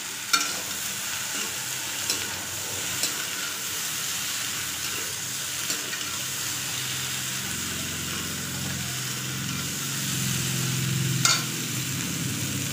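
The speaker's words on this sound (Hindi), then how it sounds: "थोड़ा सा हमारा स्टार्ट हो चुका है भूनना सब्ज़ी।" Potato, pea and cauliflower curry (aloo matar gobhi) sizzles steadily in a pan, a constant broadband hiss with occasional soft clicks of stirring and a fuller bubbling rise toward the end, no talking.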